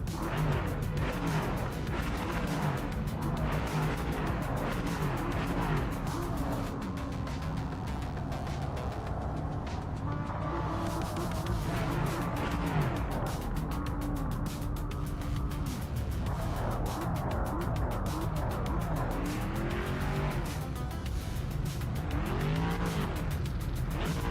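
An Aston Martin race car drives in the Project Motor Racing video game, its engine droning steadily and shifting pitch as it accelerates and brakes. Faint tire noise runs through the constant loud roar.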